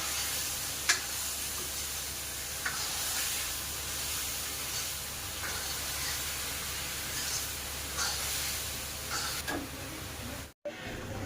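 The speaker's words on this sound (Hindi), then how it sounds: "इसमें हल्दी, थोड़ी सी लाल मिर्च, थोड़ा सा धनिया पाउडर, फ्राई कर लूँगी इस मसाले को" Turmeric, red chili and coriander powder masala fries in a pan for matar paneer, giving a close, steady sizzle with a few soft clicks and spatters and no talking.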